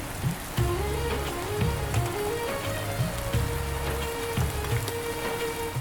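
Heavy cartoon rain pouring down in a steady dense hiss, with splashing drops and repeated low thumping impacts underneath, close and continuous with no voices.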